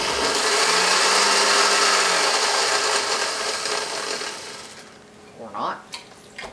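An old 1980s–1990s countertop blender purees apple peels and cores, a loud steady motor whir running for about four seconds before winding down, followed by a few faint knocks and clatters near the end.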